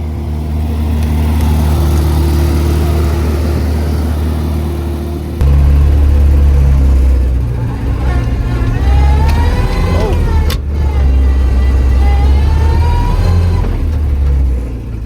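An off-road recovery wrecker truck with carburetors, its engine idling loud and close before rising into a heavy rumbling rev, with people talking over it in a snowy setting.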